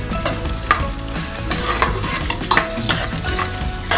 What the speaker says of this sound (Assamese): এইখিনি মই ফ্ৰাই কৰি লম